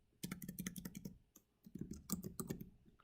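Rapid typing on a computer keyboard, two bursts of quick clicking keystrokes separated by a short pause, close and clear with no talking.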